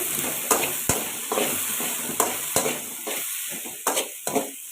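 Small pieces of tomato sauté in a pan, a soft steady sizzle broken by sharp scraping stirs and clinks of the spatula at irregular intervals, close and alone.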